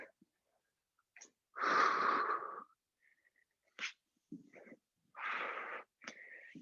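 Forceful breaths in and out through the nose during a cardio workout, several separate noisy bursts of air, some long and some short, close up with silence between them.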